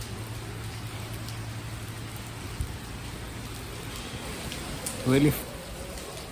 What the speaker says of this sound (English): Look at the rain, bro.